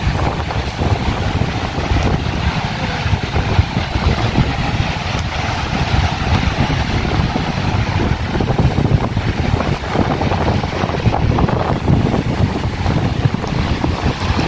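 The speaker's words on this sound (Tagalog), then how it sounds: "mahangin po dito guys." Strong wind buffets the microphone along the Laguna de Bay shore, a steady loud rushing roar with gusts, over faint lapping waves, and no voices.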